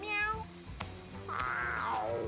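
Cat meow sound effect from a video game: a high mewing call at the start, then a louder drawn-out meow rising and falling, heard clearly over faint background noise.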